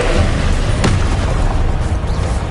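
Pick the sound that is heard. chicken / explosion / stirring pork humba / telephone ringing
explosion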